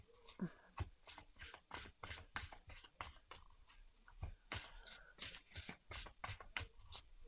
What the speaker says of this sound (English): Let's shuffle. I know it's going to shuffle well.